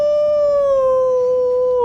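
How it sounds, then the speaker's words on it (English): A single sustained, piercing wolf howl, loud and close, holding a steady pitch that sags slightly before cutting off, heard alone without background voices. "you hear a piercing wolf howl from the top of the tree"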